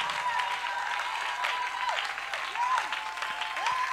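A church congregation applauds during a Sunday service, a dense, steady clapping that fills the whole stretch, with sustained musical tones ringing faintly over it.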